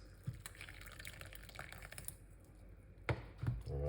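Steeped lemon water pours out of a pot in a faint, trickling stream with light splashes and drips, rising to a fuller pour near the end.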